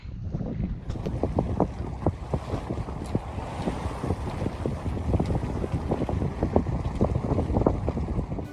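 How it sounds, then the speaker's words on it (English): A sailboat moves across open water in the Stockholm archipelago, carrying steady wind rush over the microphone and rhythmic water slaps against the hull, fairly loud and close with no talking. "I'm out and I'm sailing"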